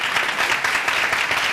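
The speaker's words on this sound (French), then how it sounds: "Applaudissements pour lui, s'il vous plaît." An audience applauds a guest on a live TV talk show, dense continuous clapping that stays loud and steady for its whole short length, with no voices over it.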